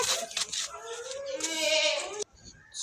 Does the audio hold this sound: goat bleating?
yes